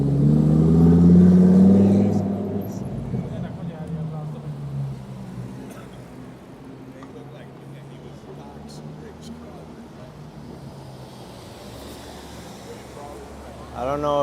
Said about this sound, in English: It's a Lamborghini.